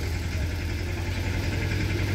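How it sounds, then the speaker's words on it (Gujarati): A tractor engine runs steadily close by, a continuous low rumbling idle with a throbbing vibration and no pauses or voices. "એક ટ્રેક્ટર પાછું વાડીએ જાય છે"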